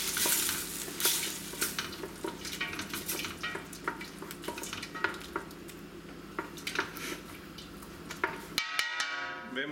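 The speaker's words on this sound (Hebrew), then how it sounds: "מערבבים." Ptitim pearl pasta being stirred in a tomato and pepper sauce in a hot pan, continuous sizzling with repeated scraping and clicking strokes of the spoon, then stopping abruptly near the end.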